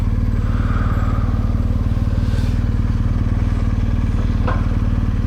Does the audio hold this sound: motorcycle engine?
yes